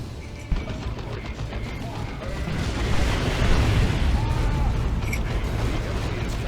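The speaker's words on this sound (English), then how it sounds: "Point blank rockets to the face." Rocket impacts fired at point-blank range against Space Marines in a Warhammer tabletop-style video game, a sustained dense rumble of blasts and crashing debris at steady loudness, swelling slightly midway.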